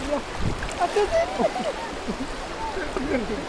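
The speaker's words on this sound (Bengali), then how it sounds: "ভীষণ স্রোত যাক আমরা এই স্রোতটা পার হয়ে আসতে পারছি" A strong stream current rushes over rocks as people wade across it on a trail near Sylhet, with gurgling and splashing water close by and faint voices in the background.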